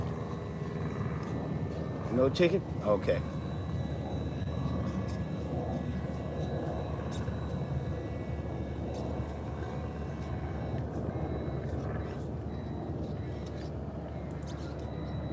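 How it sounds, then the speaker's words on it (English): A helicopter flies overhead, producing a steady low rumble throughout, with a brief voice speaking near the start. "Don't mind the helicopter, y'all, just a paparazzi."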